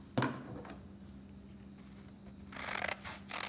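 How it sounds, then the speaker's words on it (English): Scissors snip through paper number cards in a few quiet, crisp cuts, one near the start and a small cluster near the end, with soft rustling between. "make sure that you aren't cutting off any of the pattern of the numbers, that you only cut the borders"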